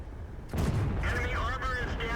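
Tank cannon fire in a tank video game: a loud, broad blast hits at about half a second and its roar and rumble carry through the rest of the clip, with brief whistling tones over the top.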